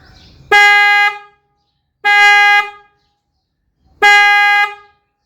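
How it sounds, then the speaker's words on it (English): Three long blasts of a deep, dull Kia Sportage car horn with only the low-pitch horn working and the high-pitch horn faulty, each about a second, evenly spaced and loud at close range. "here is what the horn sounds like when only the low pitch horn is working"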